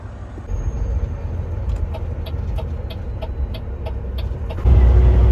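A car drives on a snowy, icy highway at 90 km/h, heard from inside as a steady low engine and road rumble with faint ticking, growing louder toward the end.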